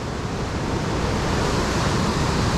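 High water on the river at Ohiopyle rushes in a loud, dense, continuous roar that fills the whole moment without a break.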